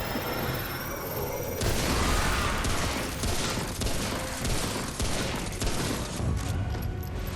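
Dense, sustained gunfire in Remnant From the Ashes while shooting an enemy, a loud continuous barrage of rapid shots and booms with no talking.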